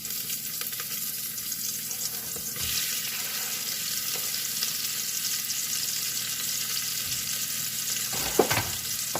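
Hot oil sizzles in a pot as onions go in for Swahili pilau, making a continuous close hiss with a brief clatter near the end.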